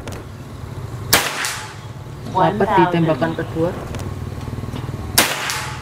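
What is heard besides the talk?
PCP airgun shots, Bocap FX Crown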